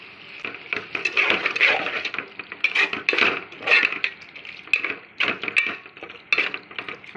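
Octopus masala being stirred in a pan with tomato and onion paste, a steady run of metal utensil scrapes and clinks against cookware, close and fairly loud, with no talking.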